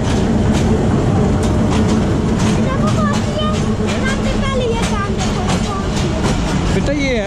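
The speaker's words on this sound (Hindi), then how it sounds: "बेटा, ये है पैसेंजर ट्रेन है" A Thal Express passenger train runs steadily on its rails, a continuous loud rumble with clattering and squealing tones throughout, while people talk over it.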